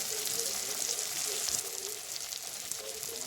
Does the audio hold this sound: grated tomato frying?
yes